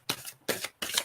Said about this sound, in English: I'll just give the cards just a quick shuffle.